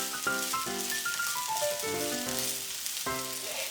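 Chow mein noodles fry in a pan with a steady close sizzle, while tonal background music plays clearly alongside the crackle.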